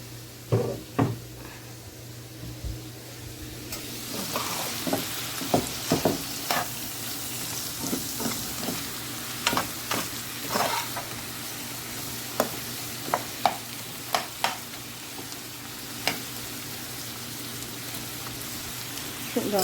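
Shrimp with a splash of soy sauce fry in a pan for spaghetti squash shrimp pasta, a constant sizzle broken by sharp utensil taps and scrapes at irregular intervals.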